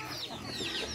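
Chickens cluck softly and repeatedly in a steady background murmur, with no talking.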